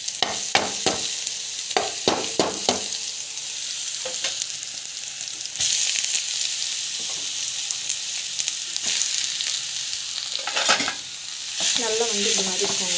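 Garlic, chana dal and small onions sautéing in a pan: a continuous bright sizzle broken by repeated sharp scrapes and taps of a spoon stirring, close and fairly loud with no voices.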